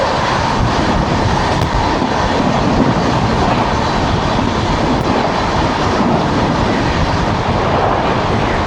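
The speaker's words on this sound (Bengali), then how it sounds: "চলে আসছে 12392 শ্রমজীবী সুপারফাস্ট এক্সপ্রেস।" The 12392 Shramjeevi Superfast Express rolls in with a loud, steady roar of wheels and carriages close by, a dense rumble that holds for the whole stretch with faint rhythmic clatter inside it.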